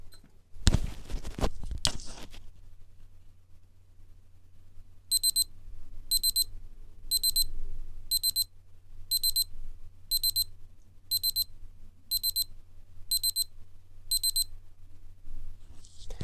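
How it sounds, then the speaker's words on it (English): A quiet click or two, then a Casio A-220 digital watch alarm sounds a string of short, high electronic beep bursts repeating at a steady one-per-second rhythm. "when it gets to 5 seconds, you'll hear the alarm"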